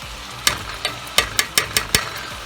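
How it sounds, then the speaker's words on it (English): Onions and celery sweat in bacon fat with a soft, low sizzle, broken by about six sharp, close clinks of a stirring utensil spaced irregularly. "and celery that I'm sweating in this wonderful bacon fat"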